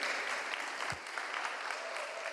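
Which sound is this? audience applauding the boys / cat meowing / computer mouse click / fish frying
audience applauding the boys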